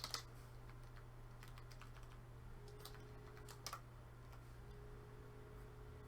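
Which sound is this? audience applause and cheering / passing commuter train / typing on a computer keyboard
typing on a computer keyboard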